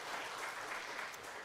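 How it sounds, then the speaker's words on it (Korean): A brief burst of dense, distant applause from a large church congregation at a Sunday service, quiet and even throughout. "우리 박수 한번 하겠습니다."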